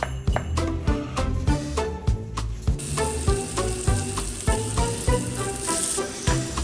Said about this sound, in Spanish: Vamos a dorar la cebolla en la misma grasita deliciosa donde freímos el bacon